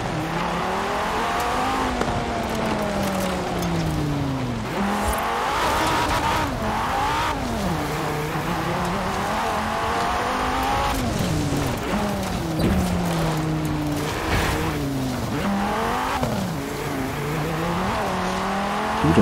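A car in Forza Horizon 4 drives continuously with engine tone rising and falling through gear changes and revs, plus occasional tire squeal, loud and steady throughout.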